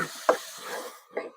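Shrimp paste (bagoong) is stirred in a pan, a few scraping strokes with a sharp utensil knock and a light sizzle underneath, close and moderately quiet.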